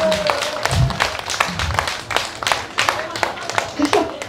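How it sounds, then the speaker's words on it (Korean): Audience clapping at a nighttime pumba performance at the Goesan Pepper Festival, with sparse, irregular hand claps scattered over a few seconds, mixed with a singing voice and background music. "박수 한번 쳐주세요"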